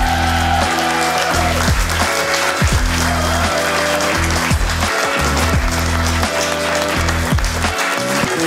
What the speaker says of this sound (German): In diesem Sinne, Applaus für unsere beiden Gäste und für die 7. Folge von Lokalrunde.